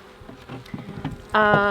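Honey bees on a hive frame give off a buzzy drone that rises into a loud, steady hum in the final moments, with faint rustling before it.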